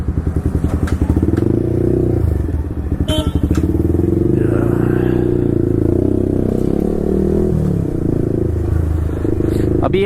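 A Yamaha R15 V4 sport bike fitted with an Akrapovic exhaust, heard up close while riding, rasps loudly with rapid engine pulses, rising revs and downshift blips, plus clattery exhaust pops through the middle.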